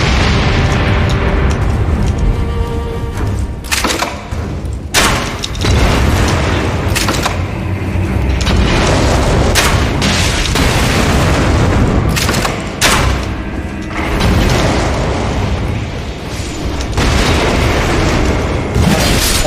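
Explosive barrels blow up in the video game Elden Ring, a string of loud booming blasts and bursts repeating at irregular intervals over a constant rumbling game soundscape.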